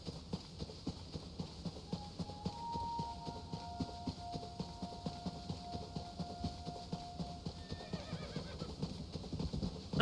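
Whinnying from Nimbus, a video game horse, rising over a steady rhythmic clatter of galloping hooves with a low in-game music bed, the neigh carrying clearly mid-clip before the hoofbeats continue alone.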